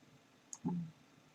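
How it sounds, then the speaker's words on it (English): A computer mouse with a faulty button that double-clicks, giving a brief faint click followed by a slightly louder, fuller click burst a moment later, alone in a quiet room. "my mouse is double clicking"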